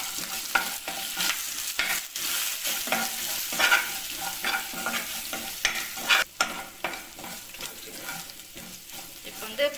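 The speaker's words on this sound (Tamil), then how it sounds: "கருவேப்பிலை ஆட் பண்ணிப்போம்." Curry leaves sizzle and crackle in hot oil in a pan for a chicken pepper fry, a steady close frying hiss broken by scraping stirs of a utensil.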